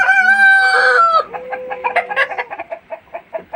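Healthy, debeaked parent-stock hens at a poultry farm: a rooster's loud crow opens, followed by a quick run of close, rhythmic clucking from the chickens.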